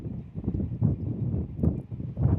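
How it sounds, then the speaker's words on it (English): Gusty wind buffets the microphone outdoors at Kansas City International Airport, a low rumbling roar that surges and eases in several close bursts with no voices heard. "I know it's a little windy today"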